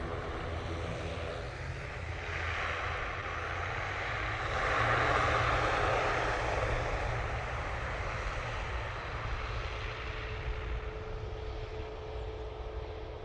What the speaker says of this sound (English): the Etihad is now on the taxi out towards us